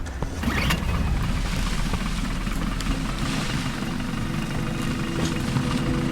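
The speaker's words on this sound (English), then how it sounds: "Start the engine." In Battlefield: Bad Company 2, a vehicle engine runs with a steady low mechanical rumble and creaking rattle, loud and continuous throughout, with a few faint clicks on top.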